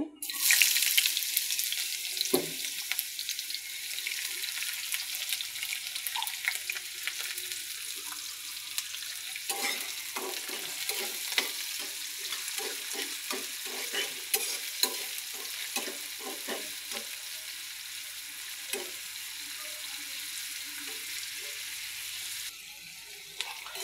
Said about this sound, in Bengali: তা আমি এখন দিয়ে দিব যে পেঁয়াজ কুচি। তেলটা গরম হয়ে গেছে।